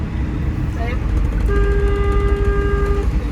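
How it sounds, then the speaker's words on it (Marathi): A vehicle horn on a highway blares in a sustained, steady tone for over a second, loud and near, over rumbling road noise while someone talks. "असा हॉर्न द्यायला लागतो"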